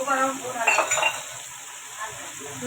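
A spoon scrapes and clinks around a pot of spicy mutton curry seasoned with hot chilli powder, a few soft stirring strokes at close range, fairly quiet, with a brief background hum.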